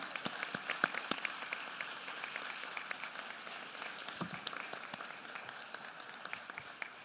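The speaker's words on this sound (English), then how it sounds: "Give them a round of applause." A crowd at a public education address applauds, a fairly faint, steady wash of many hands clapping at a distance, with a few sharper nearby claps standing out.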